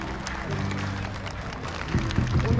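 Ballpark crowd applauding to welcome a women's épée team fencing silver medalist, a dense wash of clapping from a large audience that swells slightly near the end, with announcer talk mixed in.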